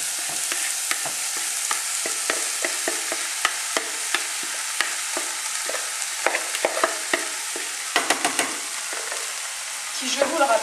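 Lentils being stirred into a pot of butternut squash curry, a steady sizzle broken by repeated spoon scrapes and knocks against the pot, close and clear, with louder clattering near the end.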